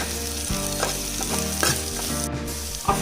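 Onions with ginger garlic paste and spices sizzle loudly in a pan as a spoon stirs them, giving repeated scraping strokes over a constant frying hiss. No one talks.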